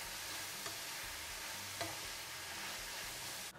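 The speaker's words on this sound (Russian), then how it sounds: "Теперь грибы размешаю с луком и вместе с луком на среднем огне жарить буквально буду 5 минут." A steady, crackling sizzle of mushrooms and onions frying in a pan over medium heat, with a couple of faint scrapes from stirring, continuous until it cuts off at the end.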